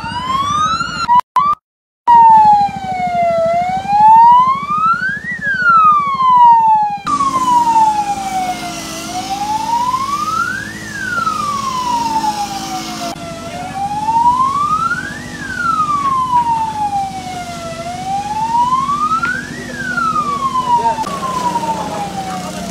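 Fire engine sirens wailing at a fire in Pahandut Seberang, Palangkaraya: a loud, slow wail rising and falling repeatedly for over twenty seconds, close by, over rumbling engines and background commotion.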